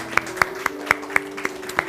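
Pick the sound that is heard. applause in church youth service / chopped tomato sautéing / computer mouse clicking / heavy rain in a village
applause in church youth service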